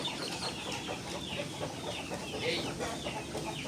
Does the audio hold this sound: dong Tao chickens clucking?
yes